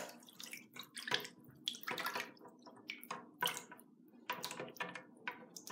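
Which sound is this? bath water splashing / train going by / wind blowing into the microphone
bath water splashing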